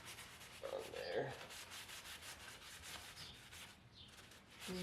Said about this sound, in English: rag super wet with the Danish oil, and now I'm just wiping it in on every part of the base.